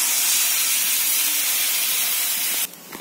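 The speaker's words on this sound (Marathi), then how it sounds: "आता आपलं पाणी टाकायचं" Water poured into a hot pan bursts into a loud, close, broad steaming hiss that holds steady for over two seconds, then drops abruptly to a quieter simmer.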